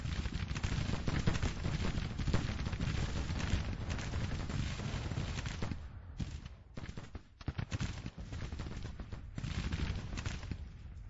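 Dense Civil War battle gunfire in Grand Tactician, continuous crackling musket volleys and booming guns rolling steadily throughout with no talk, thinning briefly midway before resuming.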